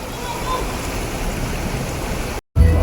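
Floodwater rushes steadily through a city street in Cebu City, a continuous broadband wash of moving water that cuts out briefly near the end before returning with a low rumble.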